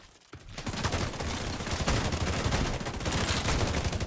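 Heavy automatic gunfire in The Division 2 Dark Zone PvP, a dense and continuous burst of rapid shots that runs almost without pause, loud and close after a brief quiet start.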